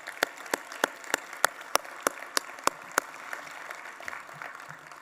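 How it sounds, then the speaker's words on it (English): A small audience at a conference keynote applauds with sharp, evenly spaced claps at first, then the clapping thins into scattered, quieter claps near the end. "One more round of applause for Paul and his staff."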